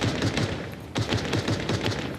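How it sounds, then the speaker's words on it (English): Rapid bursts of assault rifle fire in the Cyberpunk video game, loud and close, with steady repeated shots broken by a brief pause partway through and no talking over it. "Assault rifle."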